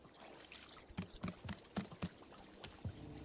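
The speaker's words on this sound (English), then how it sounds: "You can even pour multiple cups of tea from the same batch, if you wish." Tea poured into a cup in the video game Wanderstop, a soft liquid trickle with a series of small splashy blips and drips, quiet and close, with no talking over it.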